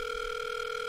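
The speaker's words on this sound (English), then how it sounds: "Use phone." A telephone dial tone from an adventure video game, a steady, unbroken electronic hum that holds at an even level throughout with no talking over it.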